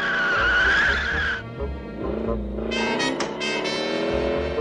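A cartoon car in a Looney Tunes short with Sylvester and Daffy skids hard to a stop, a loud sustained screech that breaks off and then returns with bright, wavering squeals over engine rumble.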